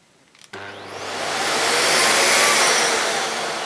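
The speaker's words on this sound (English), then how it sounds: "So when you turn it on using the plus symbol, it starts off on maximum straight away." A Miele S4780 cylinder vacuum cleaner clicks on and spins up straight to maximum, rising into a loud, steady rushing roar that holds to the end.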